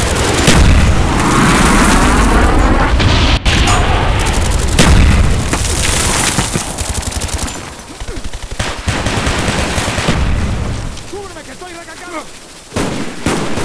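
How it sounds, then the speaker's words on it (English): An enemy bomb strike hits in a shooter game: loud, heavy blasts and booms mixed with continuous automatic gunfire, dense and near throughout, with a few sharp bursts and brief dips. "Cover me, enemy bomb strike inbound."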